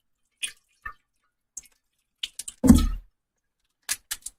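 Scattered water drips and small splashes from fish being rinsed with filtered water fall at irregular intervals, with one heavier splash in the middle, close and fairly quiet.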